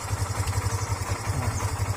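A Kawasaki Barako II motorcycle engine runs at a steady idle, with a low, even, pulsing chug and some mechanical clatter, heard close and moderately quiet with no talking.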